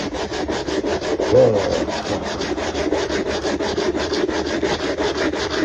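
Scalloped frets 17 to 21 on a Nema ST-25 guitar neck are smoothed with abrasive wrapped around a tool. Steady back-and-forth rasping strokes rub evenly on the wood at a quick rhythm, close up and continuous.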